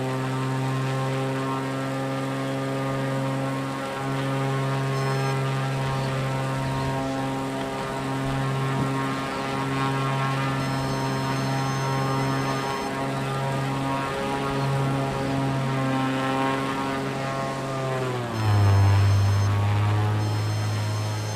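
A propeller airplane flies with its throttle pulled back, producing a steady loud engine drone with strong tonal harmonics. Near the end the pitch dips and swells into a brief rough surge, and no one speaks.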